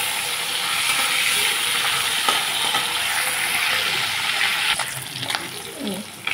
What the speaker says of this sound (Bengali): 4-5টা করে মাছ ভাজবো